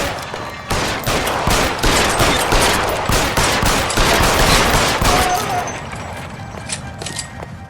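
Dense rapid gunfire from a shootout in the video game L.A. Noire, with overlapping bursts and volleys sustained loudly for several seconds before thinning out toward the end.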